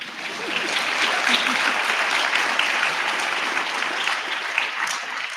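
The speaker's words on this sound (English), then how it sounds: "yes, you can applaud" Audience at a Gaza teach-in at UC Berkeley breaking into sustained applause, a dense wash of clapping from many hands, steady and fairly loud for the whole stretch.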